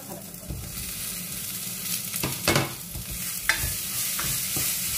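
Tomatoes frying in a large pan, a steady dense sizzle with a few louder scrapes and stirring knocks near the start and middle, close and continuous with no talking.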